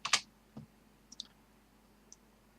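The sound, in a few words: typing a /spawn command on a computer keyboard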